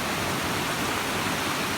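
Phromlok Waterfall in Nakhon Si Thammarat, Thailand, roars as a steady, dense rush of falling water, close and loud, with no voices over it.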